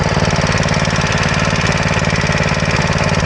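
A marketplace go-kart fitted with a torque converter runs close by in a park, its small engine giving a loud, rapid, steady putter without letup and no voices over it.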